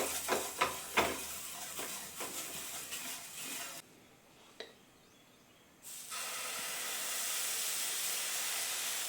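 Oats dosa batter poured onto a hot tawa: a few clattering knocks, a short lull, then a steady, close sizzling hiss that carries on without pause.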